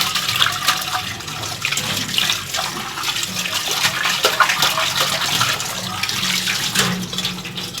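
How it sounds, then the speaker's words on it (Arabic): Tap water runs steadily and splashes as soap is rinsed off washed aluminium cookware in a sink, a continuous close hiss with shifting splashes throughout. "كل حاجه بنغسلها لازم ننزل منها الصابون كويس جدا."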